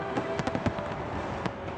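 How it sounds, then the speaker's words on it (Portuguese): New Year 2011 fireworks over a crowded beach: several sharp bursts and crackling pops in an uneven run, with a last burst after a short gap over a steady crowd hum. "Os fogos avisam que 2011 começou"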